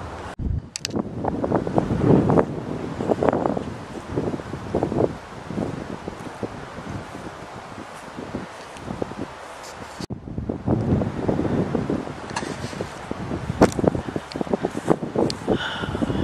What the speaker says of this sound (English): The wind has died down a lot.